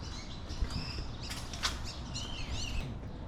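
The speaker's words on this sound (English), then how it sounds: "You can hear the birds." Faint morning bird chirps and a few quick rising whistles sound from a distance in a quiet neighborhood, over quiet background noise, with no talking.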